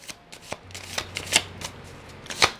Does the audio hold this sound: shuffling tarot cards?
yes